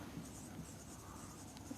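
Chalk or marker scratches faintly across a classroom board during a chemistry lecture, a quiet continuous scraping over low room noise with a couple of small taps.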